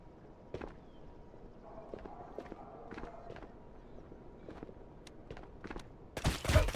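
Distant gunfire from an AI scav in Escape from Tarkov pops as scattered, faint shots on a street, followed near the end by a louder, closer burst.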